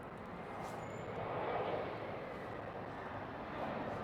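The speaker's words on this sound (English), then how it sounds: "Here's a Delta going to the left runway." A Delta airliner heads for the left runway, heard as a faint, distant, steady jet rumble that swells slightly midway.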